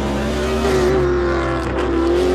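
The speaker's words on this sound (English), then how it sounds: "listen to the sound of the engine." A race car engine runs at high revs, a loud, sustained, buzzing drone with a slight rise and fall in pitch, heard close and alone.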